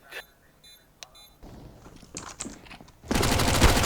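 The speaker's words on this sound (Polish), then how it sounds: "We dwóch digla strzelamy, żaden nie trafia." Desert Eagle pistols fire in Counter-Strike: Global Offensive, a few scattered sharp shots followed by a dense, loud burst of gunfire near the end, with faint game beeps early on.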